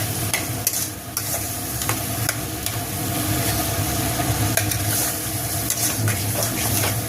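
Potatoes fry in a pan with a little water added, a steady sizzle and bubbling under repeated scraping and stirring strokes, close up and without speech.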